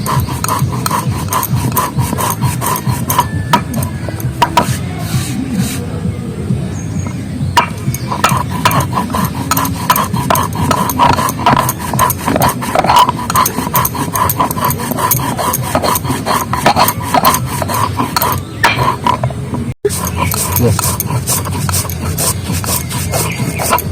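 Dried coconut husk being ground by hand for homemade mosquito-repelling incense, a continuous scraping, rasping rub with steady rhythmic strokes, close and loud throughout, with occasional knocks.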